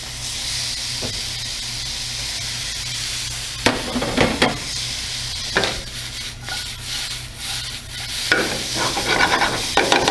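Shallot and tomato sizzle loudly in a hot pan for a fish-with-cream-sauce dish, the steady hiss punctuated by several sharp tossing and scraping bursts, near and without speech.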